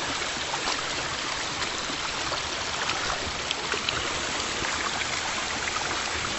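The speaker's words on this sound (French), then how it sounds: "Voilà, le petit barrage qui fait du bruit." Water pours steadily over a small weir in a shallow, low-flowing river at the Cascade des Quaires, a continuous close rushing and splashing wash with no talk.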